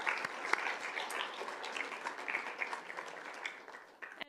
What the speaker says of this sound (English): would you stand so we can give you a big round of applause?